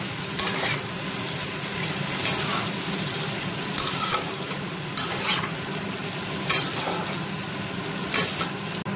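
Pumpkin curry with turmeric cooking in a pan gives a continuous sizzle, with a spoon scraping and stirring through it every second or so, close and steady.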